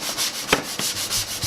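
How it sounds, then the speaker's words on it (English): Hand sanding of wood shelving pieces cut from ripped 2x6 boards, knocking off sharp corners before staining: steady back-and-forth rubbing strokes, close and fairly loud, with no voices. "are going through and sanding every piece because we plan to actually stain this piece"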